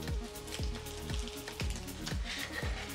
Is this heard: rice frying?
yes